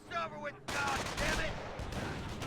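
Gunfire rakes a rifle squad in the World War II strategy game Company of Heroes: a dense, crackling burst of shots after a short pause, with close, sharp reports overlapping into a steady barrage.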